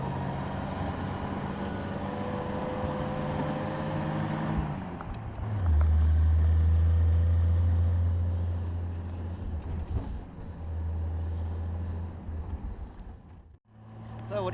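A Willys jeep's engine revs up and pulls away in snowy conditions, a loud steady low drone that swells midway and then settles into a rougher running note, with a voice talking over it.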